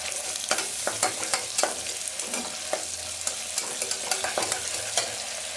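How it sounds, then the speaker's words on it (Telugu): Mint and coriander being stirred into a sizzling mutton masala curry, with steady frying hiss and repeated spoon scrapes against the pan, close and without talk. "కొంచెం పుదీనా, కొంచెం కొత్తిమీర మంచిగా కలుపుకోవాలి"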